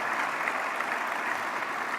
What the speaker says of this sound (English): A big round of applause as we welcome them to our family